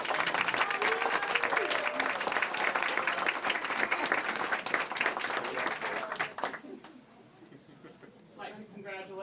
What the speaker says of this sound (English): if y'all would like to give your coaches one more big round of applause